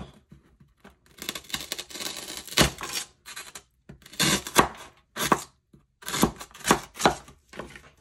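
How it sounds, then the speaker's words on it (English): A small homemade ring pop candy is cut with a blade, giving a run of crisp, close-up chopping and snipping bursts in uneven clusters with short pauses between, quiet overall and with no talking. "So I'm actually going to try to cut a little bit more of this off."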